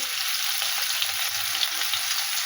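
Cashews frying in a pan for a cauliflower egg curry, a steady close hiss of sizzling oil with faint stirring, no voices.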